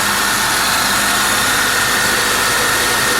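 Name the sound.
loud alternator on idling 2001 Buick LeSabre Limited engine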